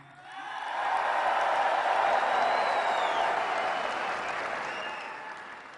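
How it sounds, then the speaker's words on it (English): Crowd at a Trump campaign rally in Toledo, Ohio, breaking into loud sustained applause and cheering that rises quickly, holds for several seconds, then slowly tapers. "you clap if you want that"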